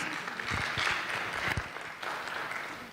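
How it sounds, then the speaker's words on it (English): Audience applause at the African Readers Conference 2022: steady, dense clapping that fills the whole stretch at an even level, with a few louder claps standing out near the start. "give them a hand clap"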